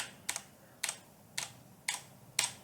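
Five evenly spaced, crisp keystrokes click on a Ducky keyboard fitted with Cherry MX switches, each a sharp close tap about half a second apart over a quiet room.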